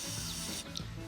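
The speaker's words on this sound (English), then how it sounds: "So let's just spray them all clean." Aerosol cleaner sprayed onto a car's mass airflow sensor: a close, steady broadband hiss that cuts off after about half a second, followed by faint drips and small rubbing sounds.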